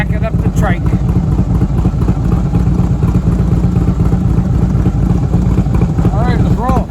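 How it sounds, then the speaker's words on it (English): A motor trike backing up, its engine idling in a steady loud chug with dense rhythmic low pulses throughout, with voices breaking in briefly over the running motor. "Backing up the trike."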